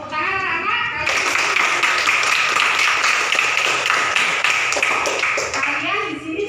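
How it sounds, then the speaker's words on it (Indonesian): Children clapping together in a classroom, a dense burst of applause lasting several seconds, close and loud, with a voice speaking before and after it. "Tepuk tangan anak-anak."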